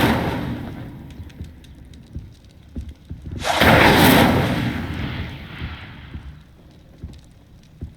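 An Incendio fire spell cast in Hogwarts Legacy: one loud, roaring whoosh of flame that lasts about a second and then fades back into quiet game ambience.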